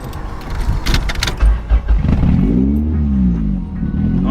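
Honda Civic with a B20 engine being driven, with a few sharp knocks early on, then a steady engine drone that rises and falls in pitch as it accelerates, heard close and loud.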